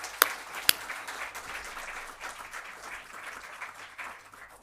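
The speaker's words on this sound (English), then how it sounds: "How often do you get applause before you've spoken, Guy?" Audience applause at a talk on prime ministers and leadership, a broad steady patter of many hands at moderate distance, with two sharp louder claps near the start and the clapping tapering slightly toward the end.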